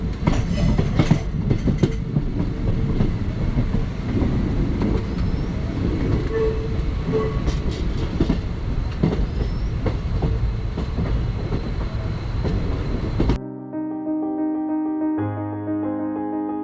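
A passenger train on the Punalur–Tenkasi line runs loudly along the rails with rattling clatter and rhythmic wheel clicks, then cuts off abruptly into a quieter, different sound near the end.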